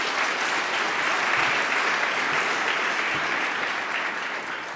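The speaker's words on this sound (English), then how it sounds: "I think they deserve a round of applause" Sustained audience applause at a university student affairs division gathering, steady and fairly loud crowd clapping throughout with no voices over it.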